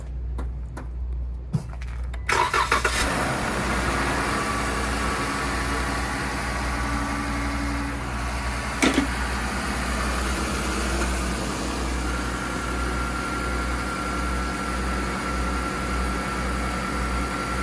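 A car with a suspected blown head gasket cranks briefly and catches, then settles into a steady, loud, rumbling idle that runs on unbroken, with a short clatter partway through.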